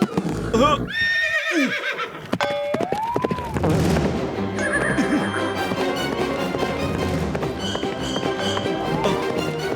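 A horse whinnies loudly near the start of a Motu Patlu cartoon scene, followed by a busy soundtrack of clip-clopping hooves, sharp hits and music, with cartoon characters talking.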